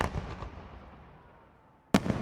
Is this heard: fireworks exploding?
yes